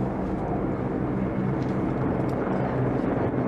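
Military aircraft, including Mi-24 helicopters and F-16 jets, fly over a Polish Armed Forces Day parade, giving a steady, loud roar of engines that fills the air without a break.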